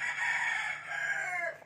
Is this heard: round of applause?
no